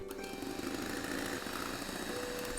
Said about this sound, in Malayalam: വീണ്ടും ഞാൻ ബീറ്റ് ചെയ്യുകയാണ്.